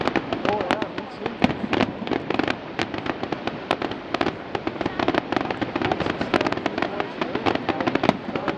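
Canada Day fireworks on July 1 burst in a dense, continuous barrage of sharp cracks and booming explosions, loud and close, with excited voices of spectators talking over the show.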